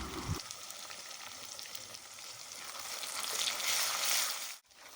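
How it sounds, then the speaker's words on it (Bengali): Chopped tomatoes fry in oil in a pan while being stirred for a chana masala, giving a steady, close sizzle that swells toward the end before cutting off briefly. "টমেটোটা একটু তেলের সাথে নেড়ে নেবো"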